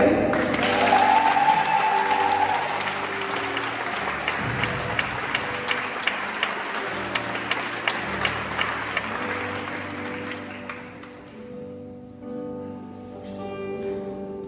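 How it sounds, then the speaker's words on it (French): An audience at a gospel choir concert in Cerny applauds with loud, sustained clapping for about ten seconds, then the clapping thins out and fades as a low tonal sound takes over. "sous vos applaudissements"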